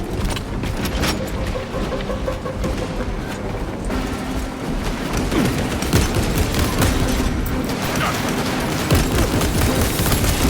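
Dense, continuous gunfire and launcher blasts rattle through a Warhammer 40,000: Space Marine 2 battle, a loud, unbroken barrage of overlapping shots with occasional heavier booms.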